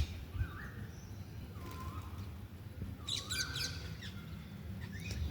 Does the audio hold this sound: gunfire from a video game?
no